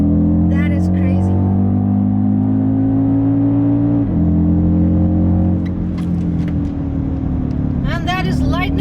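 Audi RS Q3 Sportback accelerating hard from 0 to 100 on a test drive, a strong engine note rising steadily in pitch, dipping at a gearshift, then climbing again, heard from inside the cabin with a voice exclaiming near the end.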